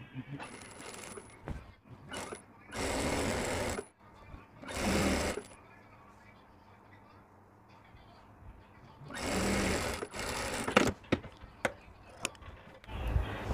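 A sewing machine stitching a kurti collar runs in several short bursts separated by quiet pauses, with small clicks and handling taps between runs.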